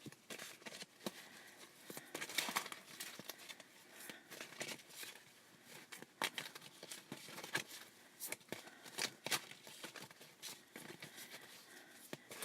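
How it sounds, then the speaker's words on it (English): Quiet, close riffling and flicking of oracle cards being shuffled, irregular soft taps and brushes continuing steadily throughout with no talking. "I just want to get these good and shuffled up here"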